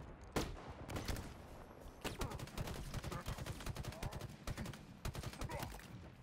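Burst-fire rifle in Halo Infinite shooting at brute enemies, rapid grouped volleys of gunshots repeating across the span, loud and dense with game noise underneath.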